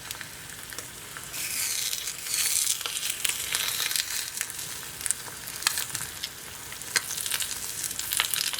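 An egg fries sunny side up in a pan, with a continuous bright sizzle, scattered pops and crackles, and soft scraping as the white is pushed outward. The sound is close and steady, alone without speech.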